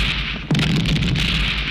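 A sudden deep boom of a petrol pump blowing up in a film bursts out midway over steady background noise, followed by a low rumbling tail that lingers to the end.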